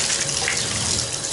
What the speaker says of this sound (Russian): Сейчас теплая вода пойдет.